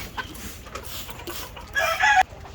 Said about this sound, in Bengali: এই যে মুরগিগুলো দেখছেন, এদেরকে স্প্রে করে দিচ্ছে, এরা বাইর হচ্ছে